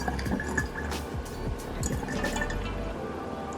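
Water pours into a small container for a homemade reed diffuser: a short, close gurgling fill with rising bubbly tones, then soft trickling, no talk.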